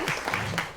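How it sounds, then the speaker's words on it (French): A French studio audience applauds a panel, a brief burst of clapping spread across the room that stays fairly steady for under a second. "merci d'applaudir Chloé et Jean-Sébastien qui sont avec nous."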